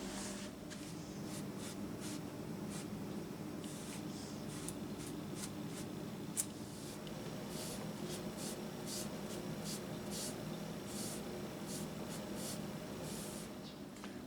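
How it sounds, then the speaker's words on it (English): Quiet, repeated bristle strokes as a brush lays varnish onto sanded wooden cab parts, soft swishing sweeps in an irregular rhythm over low background hum. "put a coat of varnish on the parts of the cab that we cut and then sanded"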